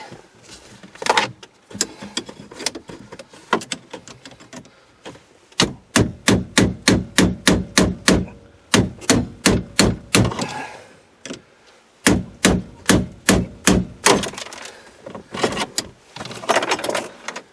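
A Toyota van's aluminum ignition lock is pounded out with a hammer. Sharp metallic strikes come in fast, rhythmic volleys separated by short pauses, loud and close.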